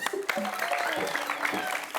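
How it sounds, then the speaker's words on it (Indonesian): A live comedy stage audience breaks into short, lively applause while performers keep talking over the clapping. "Tepuk tangan dong"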